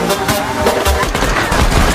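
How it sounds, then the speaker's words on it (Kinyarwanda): Rapid gunfire from shooting into the air in a film: dense, continuous bursts of loud cracking shots that blur together into a heavy fusillade. "barasa mu kirere"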